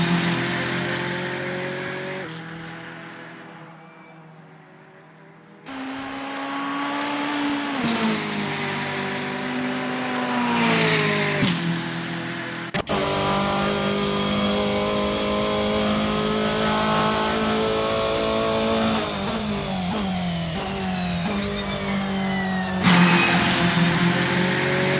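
VW Scirocco Silhouette Vortex GC10 race car engine in Assetto Corsa revving loudly and steadily, pitch climbing and dropping through repeated gear changes, with sustained near full-throttle drone and no talk.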